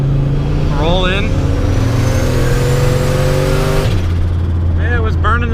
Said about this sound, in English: it was burning the tires